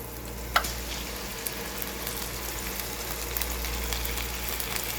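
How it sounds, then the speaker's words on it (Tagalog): Corned beef sautéing in a pan for a cauliflower dish, a steady soft sizzle with faint stirring scrapes, one brief clink near the start, close and alone. "Gisahin lang din hanggang sa ito ay maluto"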